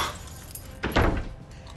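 A bunch of keys jangles close by in a short metallic rattle over a soft indoor background, with no speech.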